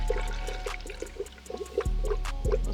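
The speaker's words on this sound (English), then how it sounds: "I now can just pour coolant in here without wasting any" Coolant pours into a car's cooling system, a close, gurgling glug of liquid with bubbly pops and a low rumble as the fluid is drawn in.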